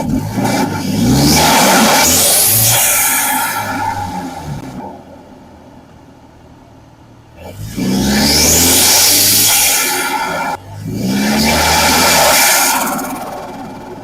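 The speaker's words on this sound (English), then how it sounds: "Got a turbo spool. That's what I was trying to catch" A car's turbocharger spools up in two loud bursts of rising whoosh and engine roar, separated by a quieter idle stretch, close by and with no talk over it.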